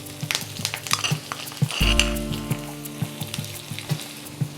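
Dry red chillies and curry leaves crackle and sizzle in hot oil for a South Indian tomato rasam tempering, a steady close frying hiss broken by sharp pops and a louder surge of sizzling midway, with no talk.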